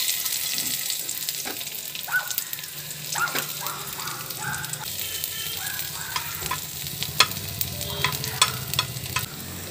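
Garlic cloves frying in a little oil in a pan for a chilli tomato coriander chutney: a steady close sizzle broken by scraping and clinking stirring taps, with no speech.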